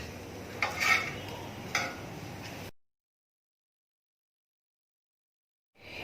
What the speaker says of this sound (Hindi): इसके मैं 3 पीसेस काटूंगी